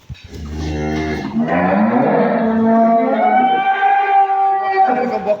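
A dairy cow moos loudly and close by on a farm, one long drawn-out bellow that rises and holds, followed by a quieter second low.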